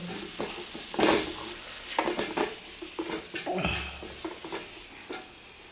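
Spice masala for pomfret fish being stirred by hand in a pan, with irregular scraping and utensil clatters over a faint sizzle and no talking.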